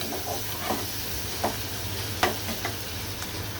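Onion paste fries in a pan with chopped onion and garlic, making a constant hissing sizzle up close, with a few sharp clicks of a stirring spoon against the metal.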